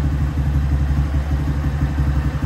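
A Honda Start 160 motorcycle idles close up through a new Torbal Racing exhaust, giving a loud, deep, steady burbling rumble with slight rhythmic pulsing and no voices.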